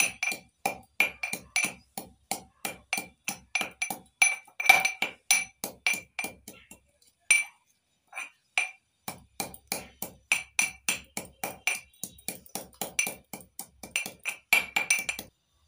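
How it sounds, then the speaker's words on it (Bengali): Coriander leaves and green chillies being pounded, a steady run of sharp, clinking strikes repeated at a brisk rhythm with one short pause midway, fairly close and moderately loud. "এবার ধনেপাতা আর কাঁচা লঙ্কা একটু থেতো করে নিচ্ছি।"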